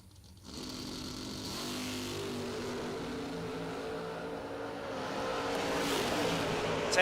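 Drag cars, including a Corvette, launching down the strip at a racing event, a distant engine roar swelling in from near silence and building steadily louder across the clip.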